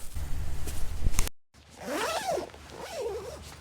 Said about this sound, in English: I actually really like the zipper